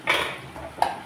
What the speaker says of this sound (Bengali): ঢাকনা করে দিচ্ছি, ভালো করে কষিয়ে নিতে হবে।